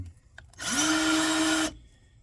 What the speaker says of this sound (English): So I just take that, put this on my drill.